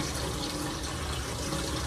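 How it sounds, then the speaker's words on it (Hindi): Water gushes steadily as it is dumped out of a container, a close, continuous splashing pour with no pauses and no voices. "अब जो है पानी सारा हम लोग फेंक रहे हैं"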